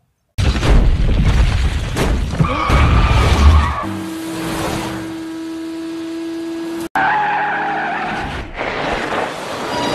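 Highway pile-up crash from a film after logs break loose from a timber truck: loud roaring engines and screeching tires, heavy impacts, then a sustained tone and further crashing, all in one dense, chaotic mix.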